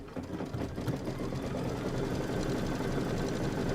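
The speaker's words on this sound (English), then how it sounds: "We're doing the satin stitch on the bottom of the cone." A sewing machine runs a steady satin stitch on an appliqué ice cream cone block, a continuous close mechanical whir with a fast even needle rhythm and no pauses.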